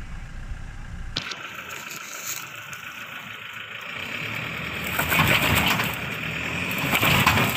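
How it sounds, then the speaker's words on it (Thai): Toyota Revo pickup with its diff lock engaged, rear wheels spinning together on rocks: engine noise rises and roughens into a gritty, loud churning that builds toward the end, with no talk over it. "ตอนนี้ยิงดิฟล็อกแล้วเดี๋ยวลองดูล้อหลังปั่นพร้อมกัน"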